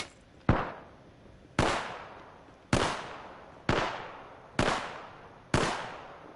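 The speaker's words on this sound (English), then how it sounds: "We're shooting." Six sharp gunshots from Apex Legends ring out at a steady, unhurried pace, each with a short decaying tail, loud and close with no talk over them.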